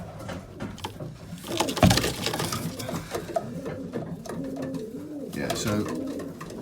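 Racing pigeons coo and flutter inside a pigeon trap, producing a steady, close, murmuring coo with feather rustles and a mechanical whirr. Someone speaks briefly over them.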